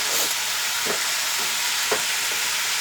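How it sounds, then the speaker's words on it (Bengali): Cauliflower stalk curry sizzling loudly in a pan as it is stirred, a dense continuous frying hiss with a few soft scraping strokes of the spoon, close up. "এবার আমি ঢাকনাটা খুলে দেখব। নাড়াচাড়া করবো একটু।"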